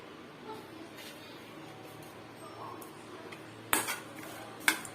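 Roasted dry fruits and cardamom powder stirred together in a metal pan for millet laddu, giving a couple of sharp utensil clinks and scrapes over a quiet kitchen background.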